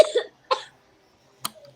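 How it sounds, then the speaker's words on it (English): A person coughs indoors: two close, harsh bursts, a pause, then one sharper cough followed by a faint throat sound. "Who's coughing?"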